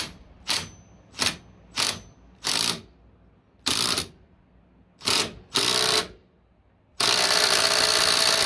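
A ratchet tightening a 14 mm bolt on a Honda Spree scooter, heard as a series of short, close, loud bursts of rapid clicking separated by pauses, ending with a longer sustained burst.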